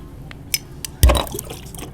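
A hot glass bottle plunged into cold water, a few light taps and then a short sharp splash and gurgle.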